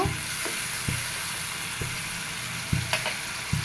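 Fish going into boiling curry gravy in a home kitchen pot gives a loud, steady sizzle and bubbling, with a few sharp splashes and clatters spaced through it and no talking.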